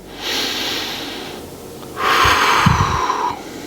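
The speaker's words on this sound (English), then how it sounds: "As you can see, I'm breathing in and out." Slow, audible breaths in and out during a gentle lumbar back exercise for disc bulge relief, a soft airy exhale followed by a stronger, raspy inhale, close and alone.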